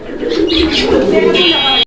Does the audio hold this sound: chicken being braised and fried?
no